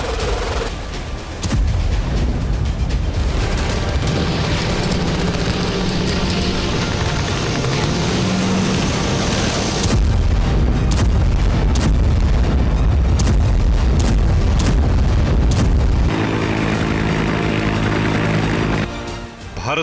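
Lightweight Indian Army artillery guns bought from the US fire in a dense, loud barrage, with heavy booms and blasts continuing without a break throughout.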